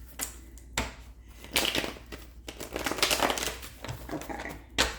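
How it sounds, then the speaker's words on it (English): Tarot cards are shuffled by hand close up: bursts of papery riffling and slapping in an uneven rhythm, with crisp flutters and soft taps, and no speech. "I just shuffle them, so y'all can hear."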